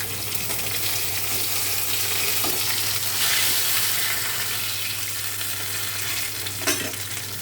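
Battered egg papad frying in hot oil, giving a steady bubbling sizzle throughout with a low constant hum beneath and a few brief clinks and scrapes of stirring.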